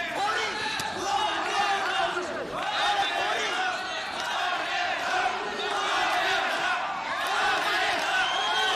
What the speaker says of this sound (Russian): Болельщики из Армении дают себя услышать.